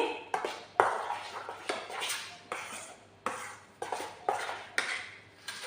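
A spoon scrapes and clinks around a bowl as cream is mixed for a cake. Repeated rhythmic strokes swell and fade, each starting with a sharp metallic tap, close and moderately quiet.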